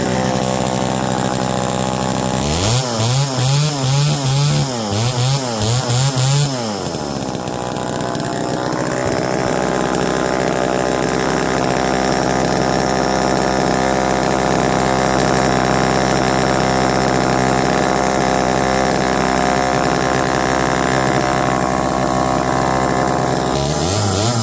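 A blue Homelite EZ chainsaw, freshly cleaned and revived, runs loud and close: a few seconds of revving bursts rising and falling, then a steady high-pitched buzzing run until the end, with no talking.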